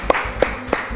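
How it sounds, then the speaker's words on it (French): A quiz host claps his hands three times in slow, even succession, each clap crisp and close against a quiet room. "J'applaudis."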